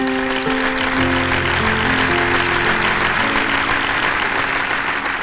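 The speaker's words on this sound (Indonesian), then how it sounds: "kita kasih tepuk tangan dan semangat" A studio audience at a dangdut television show breaks into sustained applause, a dense, loud, even roar of clapping that holds steady throughout, with faint music tones lingering underneath.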